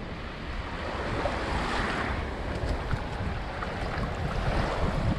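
Caribbean ocean surf along the St Croix coast washes in a steady, broad roar of breaking waves, with gusty wind buffeting the microphone throughout and no voices.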